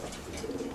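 A young red racing pigeon of Janssen lineage from a racing loft coos briefly and softly, a short low murmur with steady background.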